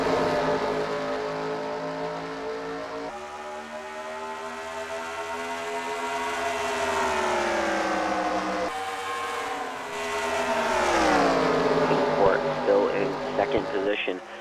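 Race cars roaring around a racetrack during a heat, a sustained, rising and falling engine drone that stays loud the whole time.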